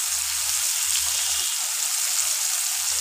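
Cumin seeds and a splash of water added to frying spices in a pan for sesame okra, giving a loud, steady hiss of sizzling close up with no pauses.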